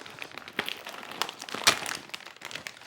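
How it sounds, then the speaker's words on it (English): A crouton package being ripped open by hand, a burst of crinkly plastic crumpling and tearing with a sharp peak midway, close and fairly quiet. "Rip it. Ah! I ripped."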